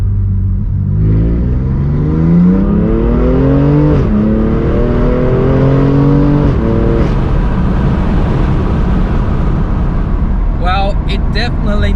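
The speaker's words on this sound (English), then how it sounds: "This aftermarket system maintains a deep note in lower RPM, while it sounds thicker and punchier in mid to high RPM." BMW M2 Competition fitted with an RES aftermarket cat-back exhaust revving loudly and continuously, deep rising and falling engine note swelling through several throttle blips, with a brief sharper burst near the end.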